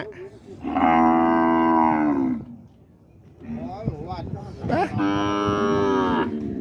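Two long, loud bull moos at a livestock market in Non Sawan, separated by a short lull filled with softer crowd noise and low voices.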